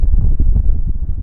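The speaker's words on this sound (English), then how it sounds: "it's getting windy" Gusty wind buffets the microphone at a wilderness lakeshore campsite, a short low rumbling roar that swells and dips unevenly with no other sounds above it.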